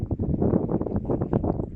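Strong, icy wind blows steadily outdoors during plein-air watercolour painting in bright sun, a loud, continuous buffeting roar against the microphone with gusting surges and no talk.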